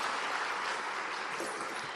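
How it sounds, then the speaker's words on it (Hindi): Audience applauding at a National Girl Child Day launch event, a steady dense wash of clapping filling the whole stretch at moderate, even loudness. "ताली बजा के सुदीक्षा का स्वागत कीजिए"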